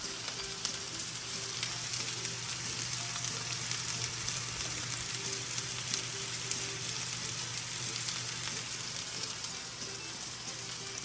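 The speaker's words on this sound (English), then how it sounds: "All in all, it just takes a few minutes to sear these." Meat, likely pork tenderloin or prime rib, sears in a hot pan with a constant soft hiss and crackle, steady and unbroken throughout.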